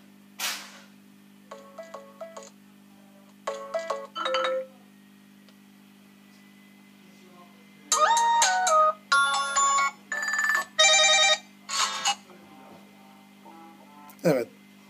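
Several short ringtone and notification chimes from a Turkcell T70 phone play one after another, some brief beeps, then longer melodic bursts, clear and close against a low steady hum.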